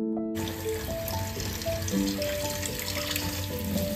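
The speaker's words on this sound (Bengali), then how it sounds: "গ্রেট করে নিলে তারপর এটাকে ভালো করে জল দিয়ে অনেকবার ধুতে হবে" Grated potato being rinsed under a running kitchen tap, a steady broadband rush of water into a sink with faint clinks of utensils, close and continuous throughout.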